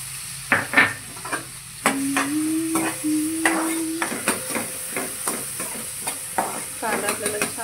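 Onion fries in butter and a little oil as the base for pav bhaji, giving a close, steady sizzle with frequent clacking stirs against the pan and a brief tonal hum in the middle.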